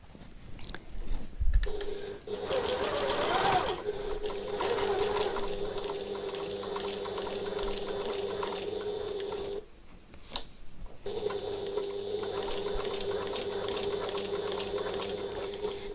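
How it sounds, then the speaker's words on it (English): A sewing machine runs steadily while stitching a 3/8-inch seam around a piped pocket tote bag, a continuous close whir with a brief pause about two-thirds of the way through before the stitching resumes. "I'm just going to sew all the way around on that 3/8 of an inch seam allowance"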